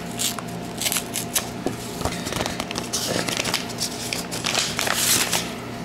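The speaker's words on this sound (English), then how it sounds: "just rip it here" A trade card package torn open by hand, with dense crinkling and ripping of foil wrapper throughout, close and fairly loud, with no talking.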